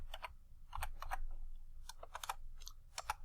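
Keys clack on a computer keyboard while entries are typed into an AutoCAD table, a run of sharp close clicks in short bursts with brief pauses between them, set over a low steady hum.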